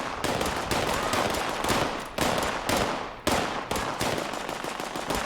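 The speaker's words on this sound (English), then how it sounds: "Which one of you is throwing grenades?" Grenades explode in the video game Fallout 76 as dense, continuous battle noise, with several loud blasts standing out over rapid popping gunfire that never lets up.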